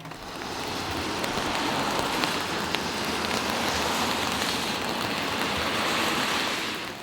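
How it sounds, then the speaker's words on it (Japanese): Heavy rain falls steadily outside a camper van, a continuous dense hiss of drops drumming on the roof and surroundings, with no voices. "こんな感じで雨が結構降ってきてる。"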